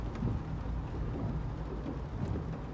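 Steady rain with low rumbling thunder in the video game Life is Strange 2 while on the road by car, a continuous dense wash of sound with no talk.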